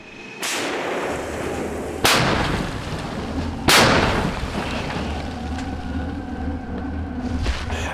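Three loud, sharp artillery cannon blasts go off at a frontline position, each booming and then rolling away into a long echo, with steady low rumble between the shots.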